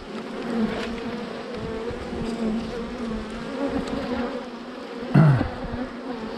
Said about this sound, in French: quand tu récupères un essaim, fais gaffe